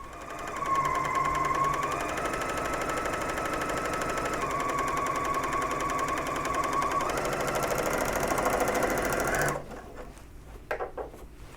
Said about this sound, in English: So let's get to sewing.